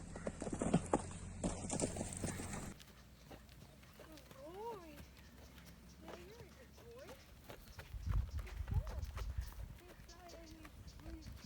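Horse hooves clip-clop at a walk in Costa Rica, a soft uneven rhythm of steps under a bright early burst, with birds calling and faint background noise.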